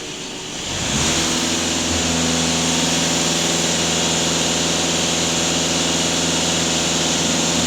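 VW Golf 2.0 TDI diesel engine revving up from idle to a steady, loud, droning high-rpm hum with a clattering diesel edge, held continuously and close.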